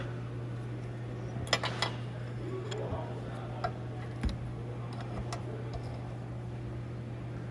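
A wrench tightens a transmission pressure sensor on a Honda Civic with a few faint metallic ticks and clicks under a steady low hum, quiet and sparse.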